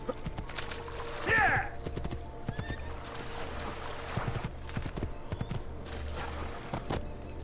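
Horse hooves clip-clopping in the video game Assassin's Creed 2, a steady trotting rhythm close by, with a loud neigh early on and a few sharp bangs scattered through.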